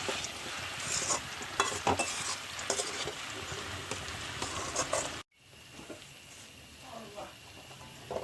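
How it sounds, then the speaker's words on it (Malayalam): Sliced okra stir-frying in an open pan for a Kerala mezhukkupuratti, with steady sizzling and scraping stirs that run continuously, then cut to a quieter, softer sizzle partway through. "വെണ്ടക്കയുടെ വഴുവഴുപ്പ് നമുക്ക് ഇളക്കിയിട്ട് തുറന്ന് വെച്ച് നന്നായി ഒഴിച്ചെടുക്കാം"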